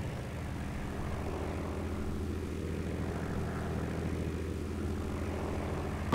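A propeller-driven warbird aircraft flies near Chateaudun, its engine producing a continuous, even drone at a moderate, steady level for several seconds with no speech.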